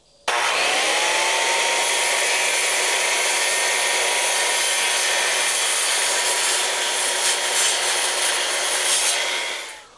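Wood pieces being cut for a homemade plant press, heard as a loud, continuous, even grinding and rasping cut that holds steady for about ten seconds before stopping, with no voices.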